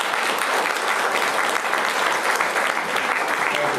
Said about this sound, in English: And audience, round of applause for the speakers.